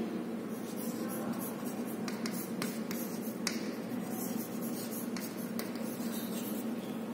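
Pen or marker writing multiplication steps for an algebra exercise, a steady soft scratching with several sharp little taps and strokes, close and fairly faint against a low background hum, no voices.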